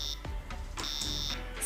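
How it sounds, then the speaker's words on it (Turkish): Electronic buzzer on a Pinoo board wired to port 4, sounding a steady high beep for about half a second when the space key is pressed, over a faint background hum. "Boşluk tuşu basıldığında buzzer'dan bir ses çıkışı duyalım."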